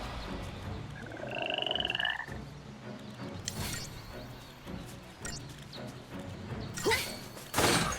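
Frogs croak in the Final Fantasy XIII game world, a few clear nearby croaks early on, followed by scattered thumps and bursts of noise over a quiet ambient background.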